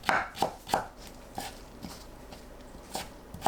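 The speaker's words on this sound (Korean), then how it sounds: "남은 우엉은 얇게 채 썰어 준비합니다." A knife cuts burdock root into thin julienne strips on a board, giving a series of crisp chopping taps, quicker at first and then sparser, close and moderately loud.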